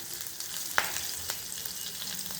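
Half a teaspoon of cumin and finely chopped green chilies sauté in hot oil, a soft, steady crackling sizzle broken by a few sharp pops and light stirring taps, close by with no talk.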